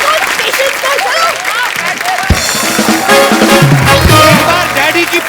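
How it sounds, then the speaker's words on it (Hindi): Studio audience applause for the cast of a comedy show fills the stretch, a steady dense roar of clapping with voices speaking over it. "एक बार डैडी की पूरी कास्ट के लिए जोरदार तालियां।"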